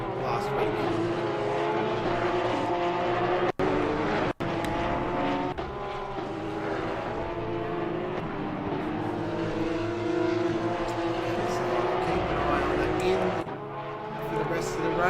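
Porsche Cup race cars lap the Hungary circuit, engines droning loudly and continuously with pitch rising and falling through downshifts, under a commentator's voice.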